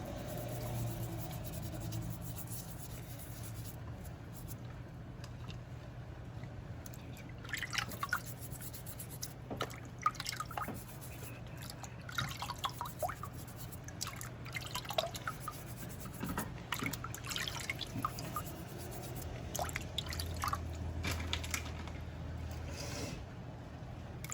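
Fresh farm eggs washed by hand under running water, with a steady stream and scattered drips and splashes, close and moderately quiet, with handling knocks and no talk.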